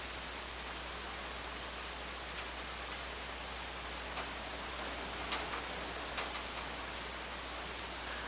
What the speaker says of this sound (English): Rain on roof.